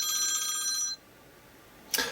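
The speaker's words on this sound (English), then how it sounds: "Phone's ringing." A telephone bell rings in a quiet room, one electronic trilling burst of about a second, a short pause, then the start of another ring.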